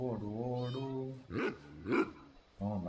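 A dog barks and whimpers in the video game Minecraft, with short yelping bursts mixed in among a person's voice.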